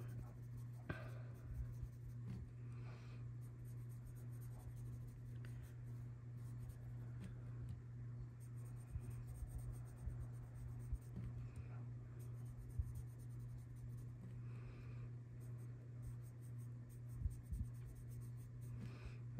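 Pen and pencil tips scratch and scribble across paper in quiet, uneven strokes over a steady electrical hum, with faint whispery breath now and then.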